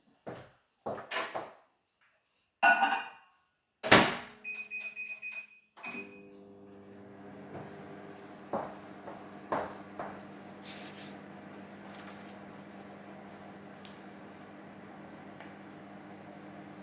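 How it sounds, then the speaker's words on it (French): A microwave oven door clunks shut with a few sharp clicks and a short beep, then a low, steady hum as it runs, melting chocolate and butter in a mug for a mug cake. "Et le tout au micro-ondes pendant 40 secondes."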